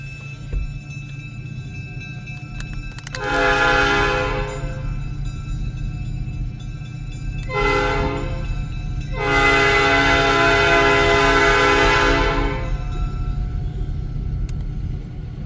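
Freight train led by ELS 501, an SD40-2 locomotive losing water, rumbles past at a crossing and sounds its horn in three long blasts, loud and close over the steady roar of the cars.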